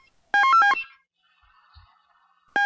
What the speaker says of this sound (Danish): Nu ringer den så lige igen, kan jeg høre.